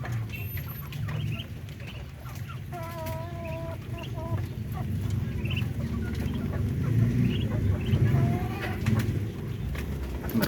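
Newly hatched chicks and ducklings chirp and peep in a large cage, their high calls repeated in short clusters over a steady low background hum, fairly close.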